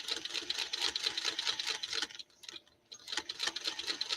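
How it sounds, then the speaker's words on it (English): Sewing machine stitching a quilt, a fast rhythmic mechanical ticking run that breaks off for a moment near the middle and then resumes at the same pace, close and moderately quiet. "I am going to just stitch out a little way and then stitch back."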